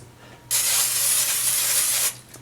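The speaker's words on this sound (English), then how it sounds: "So I want to give this a quick spray" Cooking spray hisses in one continuous, loud burst lasting about a second and a half, close by, then cuts off.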